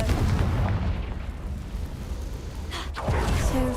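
A Confringo fire spell in the video game Hogwarts Legacy bursts in a loud, rumbling explosion with a dense roar, then a sharp crack near the end.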